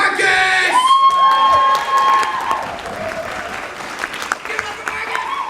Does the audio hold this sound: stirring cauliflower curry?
no